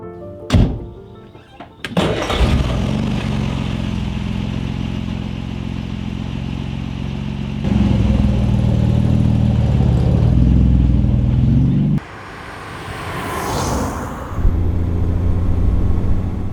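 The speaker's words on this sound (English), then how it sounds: "What a unique experience it is to drive an Austin Healey, to drive a 1960s British sports car, designed by a unique man, Donald Healey" An Austin Healey 3000 MK III, a 1960s British sports car with its original matching engine, heard with a sharp thunk and clatter before the engine starts and runs in a loud steady drone that swells and drops as it drives, then fades near the end.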